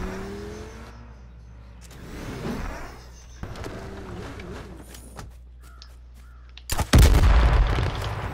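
Loud, close gunfire in the H1Z1 battle royale game on PS4 Pro, a sharp blast near the end after a stretch of quieter game noise with engine and crow-like sounds.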